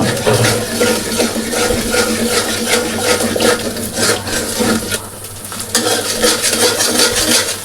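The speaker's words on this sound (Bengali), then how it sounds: "এভাবে অনবরত নাড়তে থাকবো ডিমটা যেন কড়াইয়ের সাথে লেগে না যায়" Beaten egg seasoned with salt and pepper is stirred nonstop in hot oil in a wok for egg fried rice: steady, busy scraping and sizzling close up, with no voices.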